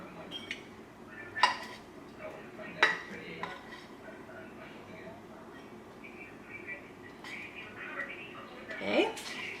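A metal spoon scrapes and scoops fluffy rice out of a pot, making a few distinct clinks and scrapes against the pot between quieter pauses.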